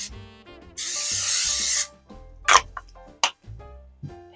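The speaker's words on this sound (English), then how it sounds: "Spray our pan with a little bit of nonstick spray." A sustained hissing spray burst of about a second from a nonstick cooking spray can onto a pan, followed by clinks and soft handling noises of kitchen items.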